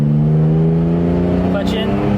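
A BMW E36 with a welded differential holds a steady, loud engine drone as the driver gives gas and lets out the clutch, the tone rising slightly near the end, with talking over it.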